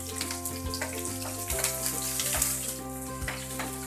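Onions frying in a pan for palak paneer with cumin, giving a steady close sizzle and crackle, with occasional stirring knocks and scrapes against the pan.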